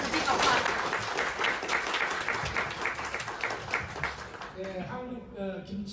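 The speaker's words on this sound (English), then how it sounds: "Let's make a big applause." Applause from a crowd at a Kimchi Day gathering in a charcoal BBQ restaurant, dense steady clapping for about four and a half seconds that stops abruptly, followed by a voice beginning to speak.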